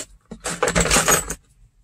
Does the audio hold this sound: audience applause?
no